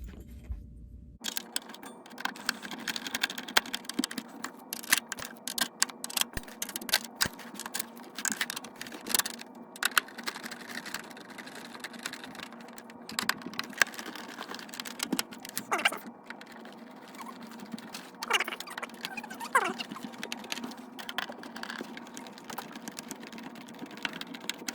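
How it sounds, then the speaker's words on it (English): Screws being driven back into a PlayStation 3 console casing, a long run of close, small clicks, ticks and metallic rattles in an irregular rhythm. "Let's put these screws back in."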